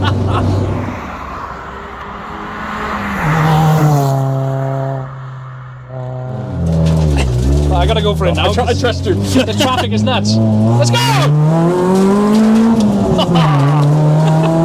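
A cammed SR20 engine in a Nissan Almera GTi revs hard and climbs through the gears while driven aggressively, loud and close inside the cabin, with a brief lift before pulling again under excited talk from the occupants.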